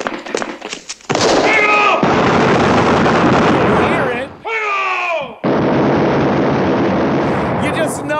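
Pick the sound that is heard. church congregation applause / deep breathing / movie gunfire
movie gunfire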